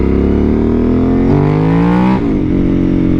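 A Suzuki SV1000S sport bike's V-twin engine revs hard and loud at close range, its pitch climbing steadily under acceleration, dropping briefly at a gear shift and then rising again.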